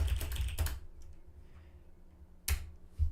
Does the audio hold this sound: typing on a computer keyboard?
yes